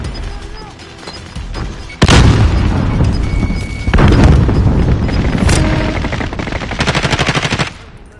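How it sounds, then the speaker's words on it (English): Loud battle din in Call of Duty: Warzone with a sharp grenade-like blast that cuts in suddenly, followed by heavy rolling booms and bursts of automatic gunfire, then a rapid rattling volley near the end. "Grenade out!"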